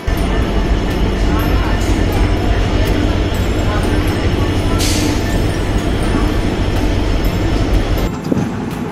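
Passenger train pulling into New Jalpaiguri (NJP) station, heard as a steady loud rumble and clatter with broadband rail noise throughout, a brief hiss midway and station ambience under faint talk.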